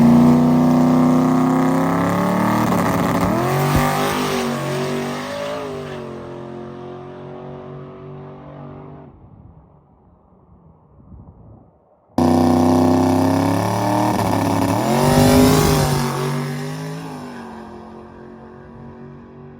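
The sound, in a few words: boosted race car engine running down the track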